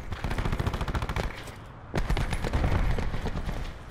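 Rapid automatic gunfire in the video game Call of Duty Black Ops 4, loud bursts of shots with a brief pause near the middle before the firing resumes heavily, no speech over it.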